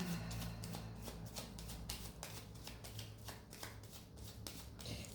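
Playing cards are shuffled and drawn for a card reading, making a close, quiet run of quick riffling flutters and soft snaps in a fast, uneven rhythm.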